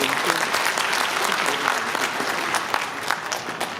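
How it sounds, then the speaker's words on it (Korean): Steady, sustained applause from a lecture audience at a climate-crisis talk in Pocheon, a dense wash of clapping filling the room for the full stretch without pause. "다시 한번 큰 박수 부탁드리겠습니다"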